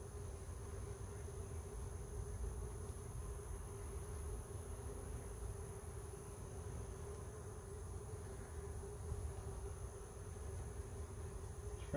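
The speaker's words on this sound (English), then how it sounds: "A lot of bees checking me out there." Honey bees buzz around an open beehive during a week-14 inspection, a faint, steady, continuous hum close by with no talking.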